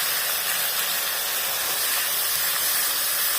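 Sliced onions dropped into hot oil already tempered with cinnamon, nutmeg and slit green chili, giving a loud, steady sizzling hiss that fills the pan without a break.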